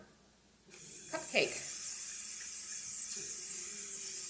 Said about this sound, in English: pan down with some cooking spray